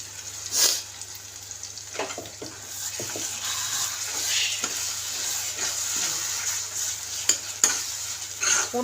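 Three tomatoes' worth of purée goes into a hot pan and is stirred, producing a wet, bubbling sizzle with scattered spoon scrapes and clinks over a steady low hum, close and without speech.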